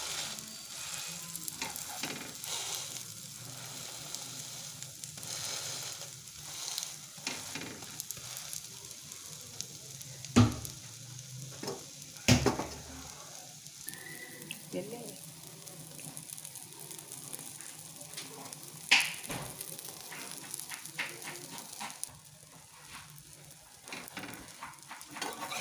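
A prawn omelette with raw prawns cooks slowly over a low gas flame, making a soft, continuous sizzle close by, broken by a few sharp clinks and knocks.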